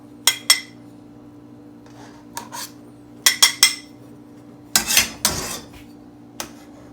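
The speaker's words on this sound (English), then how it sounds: "I'm going to spoon off this nastiness here" A metal spoon clinks and scrapes against a pot in scattered short taps while skimming scum off Chinese soup stock, close and fairly quiet.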